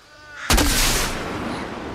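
Fireworks launched in the video game Fortnite: a sudden loud whooshing blast that then fades into a long, crackling, hissing tail, with no other sounds around it.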